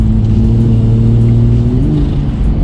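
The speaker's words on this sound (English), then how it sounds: "You can really hear that turbo now" Loud, close engine of a tuned, straight-piped Toyota Supra with automatic transmission revving upward with a droning turbo tone, rising in pitch toward the end.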